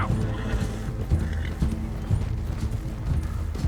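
Horses gallop in the video game Red Dead Redemption 2, with steady close clip-clop hoofbeats, a whinny and a layer of game ambience running throughout.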